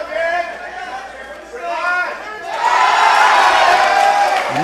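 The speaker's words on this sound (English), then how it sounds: "And the crowd is going wild" Crowd at a live jiu jitsu team tournament cheering and shouting, building from scattered whoops and calls into a loud, sustained roar of many voices close by.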